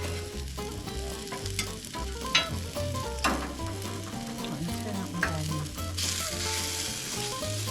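Onions sizzle steadily while frying for a Malaysian Ramly burger, a continuous close crackle with scattered scrapes and clicks of a utensil and low background tones running underneath.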